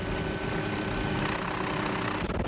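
A firefighting helicopter over the Blue Mountains bush drones loud and close, its engine whine and rotor chop forming a continuous roar throughout.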